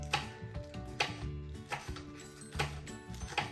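Green onions chopped with a knife on a board, a rhythmic run of sharp close taps repeating roughly every half second, fairly quiet with faint ringing in between.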